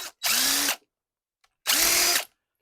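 A DeWalt drill backs screws out of a Keurig coffee machine being taken apart, two loud, close whirring bursts of about half a second each, separated by a pause with a faint tick.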